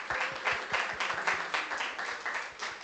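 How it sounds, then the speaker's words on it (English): An audience at an academic conference on African academic freedom claps in a short burst, a steady patter of many hands at moderate loudness without speech over it. "Let's clap for them."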